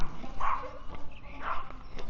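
A dog barks a couple of times at a moderate distance on a residential street in an upscale neighborhood of Merida, Mexico, the short yaps standing out over faint outdoor background noise.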